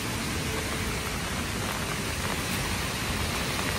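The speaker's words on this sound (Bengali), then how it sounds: "আজকে সারাদিন শেষ করে দিল বৃষ্টিতে।" Heavy rain pouring steadily in the evening near the Yellow Market in China, a dense, even hiss with no pauses and no voices.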